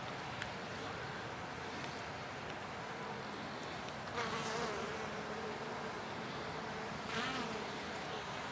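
Honeybees loaded with natural pollen in their leg baskets buzz steadily at the hive entrance, a dense continuous drone with individual bees swelling louder as they pass close.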